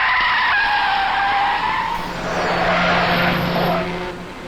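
A car skids to a stop with a long tire squeal that slides in pitch, followed by a fading engine rumble, loud and close in a dramatic scene.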